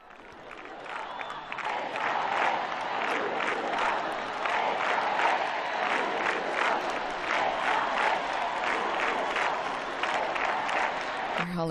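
Steady crowd applause with a few cheers from university students greeting the Pope in Lisbon, Portugal, sustained for the whole stretch at moderate loudness.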